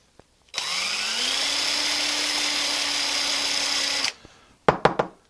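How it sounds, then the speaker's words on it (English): An electric drill bores material out of a golf club head. The motor winds up and holds a steady high-pitched whine for about three and a half seconds, close and loud, then spins down and is followed by a few sharp knocks. "But I did have to drill some stuff out."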